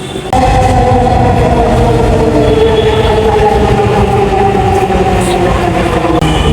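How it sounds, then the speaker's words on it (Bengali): A Dhaka metro rail train runs with a loud, steady rumble and whining motor hum from close by, held without a break throughout. "তো আমরা এখন চলে আসলাম মেট্রো রেলে।"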